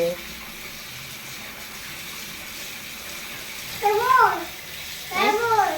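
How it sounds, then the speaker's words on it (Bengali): Water is poured over a child during a bath, a soft steady splash and trickle running throughout while a voice rises briefly twice near the end. "গায়ে পানি দিতে হবে তো, মাথায় পানি দিতে হবে, গায়ে পানি দিতে হবে"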